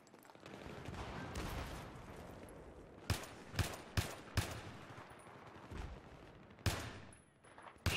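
Gunfire in the video game Battlefield 3, a few sharp shots and short bursts at irregular spacing, loud and close over a low rumbling battlefield background, with no voices.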